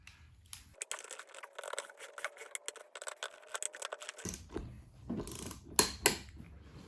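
Beadlock wheel bolts are torqued with a ratcheting wrench, giving close runs of rapid metallic clicks and clatter that pause briefly and then pick up again in uneven bursts.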